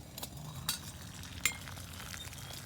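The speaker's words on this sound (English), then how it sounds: "Got a nice rolling boil there." Water at a rolling boil in a pot on a knockoff Trangia alcohol stove, a steady low bubbling rumble with a few brief clinks, close and fairly quiet.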